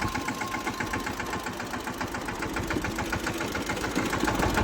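A tractor engine idles with a continuous low rumble and rhythmic knocking throb, constant in level throughout, with no voices.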